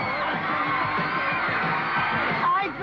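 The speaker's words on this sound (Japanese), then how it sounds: "どうだこの歓声" A crowd cheering and whooping in a radio commercial, loud and dense, with shouting voices layered over a busy roar.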